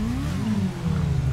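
A small motorcycle engine revving in GTA 5, loud and close, its pitch climbing and then holding in a steady whine across the short burst, with no talking over it.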